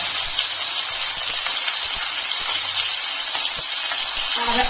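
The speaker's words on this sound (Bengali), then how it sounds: "আদা রসুন বাটাটাকে একটু কষিয়ে নিচ্ছি।" Ginger garlic paste and capsicum frying in a pan for chilli chicken, a steady loud hiss of sizzling oil that carries on without a break, with no talk.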